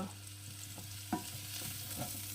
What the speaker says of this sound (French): Je vais faire revenir les champignons.